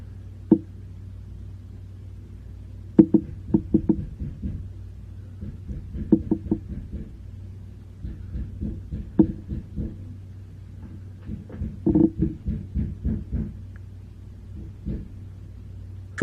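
Muffled hammering from bathroom work in another room, irregular bursts of dull knocks separated by pauses over a low steady hum.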